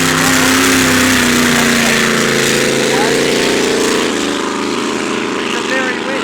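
An unlimited hydroplane race boat accelerates hard away from the dock, a loud, sustained roaring engine that dominates throughout and fades only slightly near the end, with no break in the noise.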